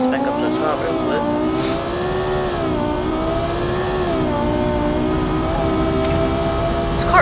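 A racing video game car climbs uphill with a steady, loud engine roar whose pitch rises and falls as it revs. It runs continuously with faint tire noise underneath.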